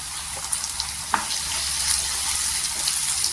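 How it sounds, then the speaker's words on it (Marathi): Chopped tomatoes sprinkled with salt sauté in a pan for a Maharashtrian sprouted matki curry. A steady close hiss of frying runs throughout, with a few light clicks of stirring and no voices. "आणि छान असं परतून घ्यायचं"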